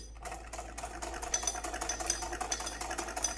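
Sewing machine stitching a fabric sleeve during a tailoring lesson, a steady fast mechanical whirr and rattle running continuously at close range with no talk.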